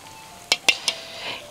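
Gram flour batter for boondi pushed through a metal slotted spoon held over hot frying oil: three sharp metallic taps in quick succession, close and clear, over a faint steady sizzle with no talking.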